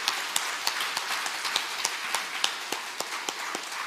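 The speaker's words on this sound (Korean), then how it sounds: "한번 박수 한번 쳐주십시다" A church congregation claps together, a dense, steady wash of many hands with scattered louder claps standing out, sustained throughout with no speech over it.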